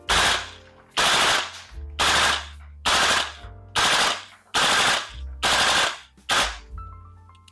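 A VFC KAC L403A1 gas blowback airsoft rifle fires eight BBs in sharp, evenly spaced reports about one per second, each with a loud crack and a short ringing mechanical tail, close up and in cold 40 °F conditions.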